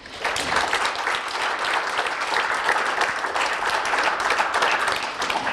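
Sustained, dense applause from a ceremony audience at a student awards presentation, steady and loud for several seconds with no break.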